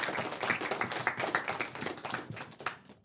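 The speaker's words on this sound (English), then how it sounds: "Let's give him a round of applause." Audience at an elementary school civic learning award ceremony claps in a brief round of applause, a dense patter of hand claps that carries steadily for about three seconds before stopping abruptly.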